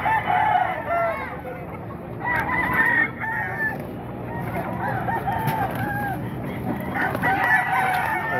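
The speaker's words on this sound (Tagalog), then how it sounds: "Titignan natin yung manok pa ni Boss Apon." Several roosters crow repeatedly in Bocaue, Bulacan, their long cock-a-doodle-doo calls overlapping near and far, with occasional clucking in between.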